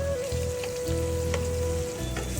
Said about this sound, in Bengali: এরপরে পটলগুলোও ভেজে নিব এই গরম তেলের মধ্যেই।